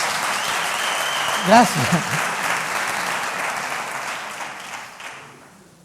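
Applause from the audience at a TEDx talk, a full and steady ovation that fills the room. One voice speaks briefly near the start, and then the clapping slowly fades out.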